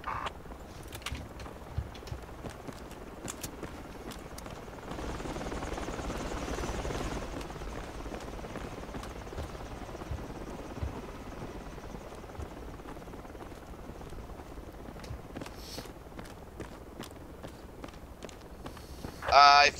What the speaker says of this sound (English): I know it's a friendly chopper.